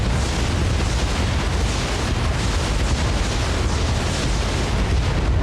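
Vehicles open fire in the BattleTech video game, a dense, loud and unbroken roar of blasts and explosions that fills the whole stretch without pause.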